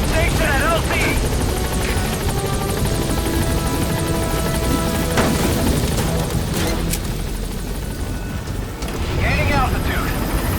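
Support helicopter in Metal Gear Solid V arriving at a landing zone, a loud steady rotor thrum with wind noise filling the whole stretch, swelling near the end, with radio-style game chatter and effects layered over it.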